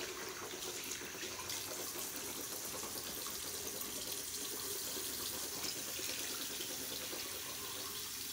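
Tap water runs steadily into a sink, a constant close hiss and splash that never pauses, with no voices.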